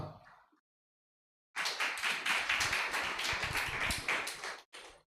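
A church congregation at a Sunday service breaks into applause after a brief silence: a burst of close, brisk hand clapping that lasts about three seconds, then stops abruptly with a final small flurry.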